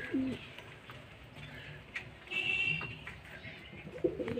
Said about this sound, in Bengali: আর কিছু পায়রা দেখুন বন্ধুরা কেমন বসে আছে